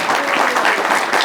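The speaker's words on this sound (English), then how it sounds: "please give a great round of applause for our guests on stage" Comic con audience applauding panel guests on stage, a brief, dense burst of many hands clapping at once, loud and continuous.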